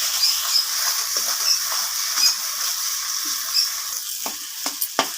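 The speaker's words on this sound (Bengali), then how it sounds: "মশলার পেস্টটা দিয়ে আমি ভালো করে কষিয়ে নেব।" Spice paste for chicken curry being fried and stirred in a pan, a bright continuous sizzle close by, with scattered creaks and a few sharp utensil knocks near the end, no talking.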